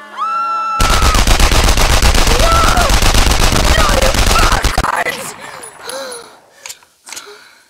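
Sustained automatic gunfire from soldiers in the game Enemy Front, a loud rapid rattle of many shots for about four seconds that stops abruptly, followed by quieter scattered sounds and shouting voices.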